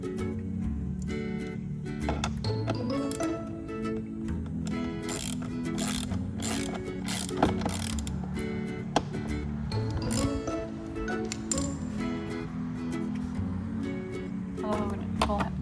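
A ratchet with a long 10mm socket tightens the side-view mirror screws on a 2014-2019 Infiniti Q50, giving rapid clicking bursts and metallic taps close by, repeated throughout without any talking.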